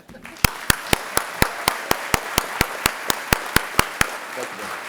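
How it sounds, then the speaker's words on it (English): Sharp hand claps from an audience at a conference session land in an even, steady rhythm, about four per second, then stop after roughly four seconds. "And without further ado, and with a great loud round of applause, Mr. Tim Hill."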